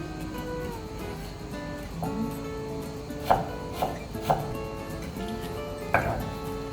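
A kitchen knife cuts vegetables into uniform 0.2 cm strips on a cutting board, with a few sparse, distinct taps heard close over a steady background hum.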